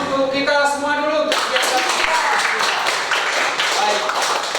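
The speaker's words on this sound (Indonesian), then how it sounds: "Tepuk tangan untuk kita semua dulu." After a teacher speaks, a classroom of students breaks into clapping for everyone, a sustained patter of many hands that continues to the end.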